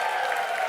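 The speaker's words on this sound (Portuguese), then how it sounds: "E vamos aplaudir a nossa banda" A short stretch of audience applause for a band at a live stage event, a steady, even wash of many hands clapping at moderate volume without distinct individual claps.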